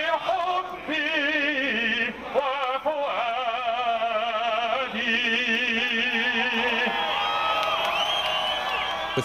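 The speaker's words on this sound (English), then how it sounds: "the crowd chanted slogans and sang the Egyptian national anthem" A crowd of protesters at an Egyptian rally in New York raise their voices together in loud, sustained chanting and singing, with harmonic voices layered densely and continuously throughout, and cheers and whoops rising over the mass of voices.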